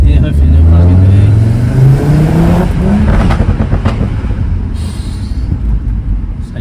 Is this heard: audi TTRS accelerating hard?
yes